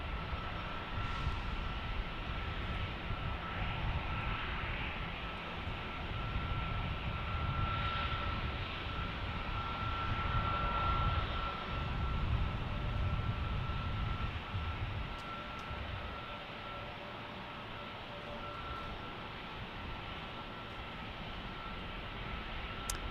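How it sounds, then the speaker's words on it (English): An Airbus A220 airliner arriving, its engines giving a steady, broad roar that swells and eases slightly over time, heard from a distance with no talking. "as we look at this A220 in arrival"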